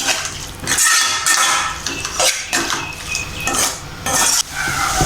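Egg fried rice stirred in a hot pan with a metal utensil after soy, chilli and tomato sauces go in, giving repeated loud scraping and clinking strokes over a steady sizzle, close and continuous.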